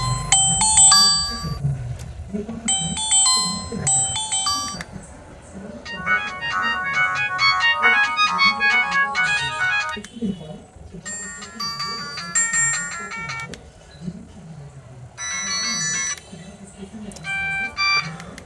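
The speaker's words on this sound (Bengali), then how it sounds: "ফোনটিতে কিন্তু পাঁচটা রিংটন অলরেডি দেওয়া আছে" A Symphony BL103 keypad phone plays a series of bright electronic ringtone melodies in short bursts, separated by gaps, while someone talks underneath.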